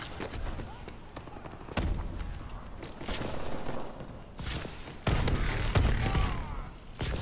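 Shotgun blasts in Call of Duty: Advanced Warfare, several loud booming shots at irregular intervals amid busy game noise, with a voice talking in between.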